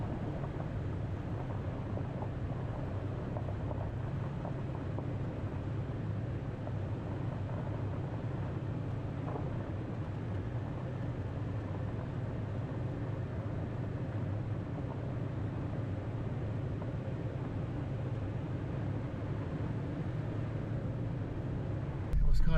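A Toyota Tacoma truck climbs a steep off-road game lands road in second gear, its engine giving a steady, continuous low drone with road and wind rumble throughout.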